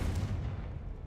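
A Confringo blasting spell goes off in a video game, a deep rumbling blast that fills the whole clip with heavy low-end thunder and slowly fades.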